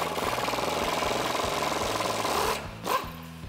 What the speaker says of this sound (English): we're gonna take a deep 18 millimeter socket on an extension on my 3/8 impact drive